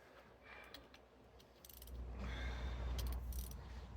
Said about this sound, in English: we got some bolts to take out